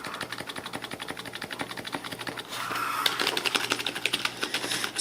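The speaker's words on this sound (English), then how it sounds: "So everyone wants to know what the keys sound like." Rapid, close Corsair K55 RGB keyboard key presses tap in an uneven rhythm, soft rather than clicky, with a slightly busier flurry toward the end.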